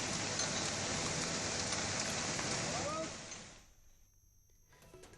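Heavy rain pours down in Panchkula, Haryana, during flooding: a dense, steady roar of downpour that fades away after about three and a half seconds, leaving near silence.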